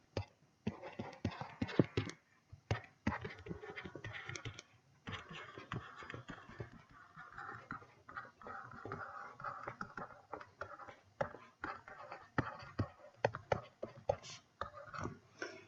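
Pen scratching and tapping on paper sheets during a maths worked example, irregular short strokes and ticks at a modest level, with a quiet voice heard now and then.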